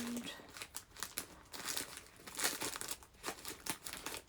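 Mailed packages being unwrapped and opened with scissors, giving repeated crinkling and tearing bursts of plastic and paper, close and fairly loud, in an irregular rhythm throughout.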